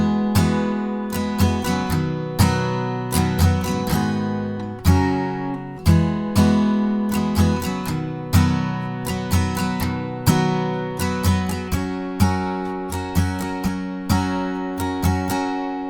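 An acoustic guitar strums the verse chords of a song in a steady rhythm, with crisp downstrokes and accented chord changes, close and loud, with no singing or talk.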